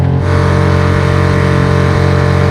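A Kuda 2.6 HP four-stroke outboard motor pushes a kayak along, its loud steady drone close and unbroken throughout the short stretch.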